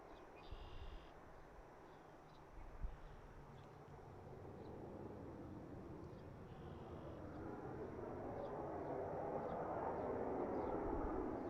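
An airplane departs Pittsburgh International Airport. Its distant jet roar builds gradually from a faint background hum to a broad, swelling rumble toward the end.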